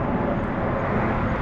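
An Airbus A321 airliner at Harry Reid International Airport roars steadily as a loud, broadband engine rumble that stays even throughout, with no talking over it.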